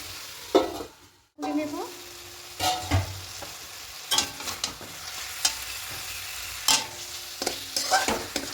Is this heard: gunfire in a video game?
no